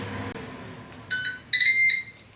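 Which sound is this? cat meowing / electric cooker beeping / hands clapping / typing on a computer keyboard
electric cooker beeping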